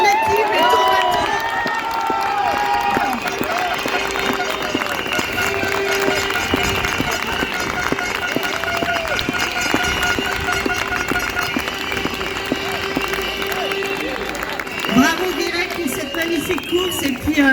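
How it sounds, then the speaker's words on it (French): An audience applauds and cheers a Vendée Globe sailor's team, a broad crowd noise of clapping and shouts that runs steadily throughout, with voices rising within it. "Je pense qu'on peut aussi les applaudir"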